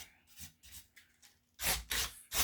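Coarse sandpaper rubbed by hand over rough pallet wood, a series of scratchy strokes, light and uneven at first, then louder, harder passes near the end, close and alone.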